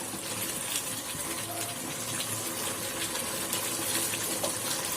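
Water pours in a steady, close gush into a pan of chicken and potato curry, splashing continuously at moderate volume with no pause.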